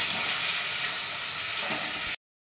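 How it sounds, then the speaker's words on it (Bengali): Pointed gourd sautéing in oil and spice paste, a soft even sizzle with faint stirring, cutting off abruptly near the end. "এবার আমি পটলটা দিয়ে দিচ্ছি। পটলটা দিয়ে একটু কষিয়ে নেব।"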